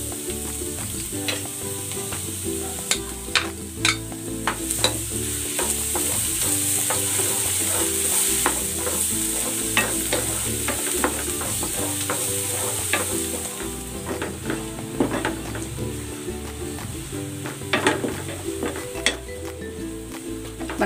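Garlic fries in olive oil with a steady close sizzle, and a utensil keeps clinking and scraping against the pan throughout.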